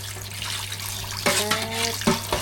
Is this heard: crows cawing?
no